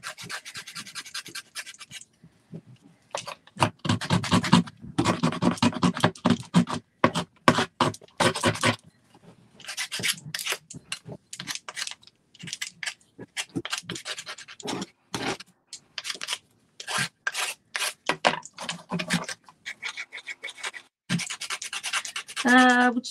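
Saltwash paint finish is scraped off a wooden planter box, repeated close, harsh rasping strokes in short bursts separated by brief pauses.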